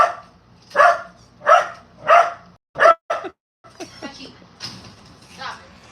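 Loud, close barking from a poodle terrier mix dog reacting to a package delivery: five quick barks, the last two clipped, followed by quieter noise from the room and a person talking softly.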